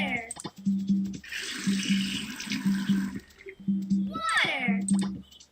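Water pours in a Nick Jr. gardening video game as a steady splashing, running stream under a looping, tonal game melody, with a voice speaking briefly over it.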